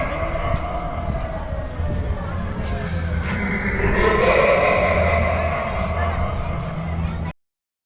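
A toy train runs at Dream Holiday Park, an amusement park, with a steady rolling rumble and a whine that climbs and swells midway before easing off, set against a busy crowd.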